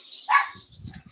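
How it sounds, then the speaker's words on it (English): A dog gives one short, fairly close bark, followed by a few quieter low grumbling yips in a home where crafting is under way. "Well, there's the dogs."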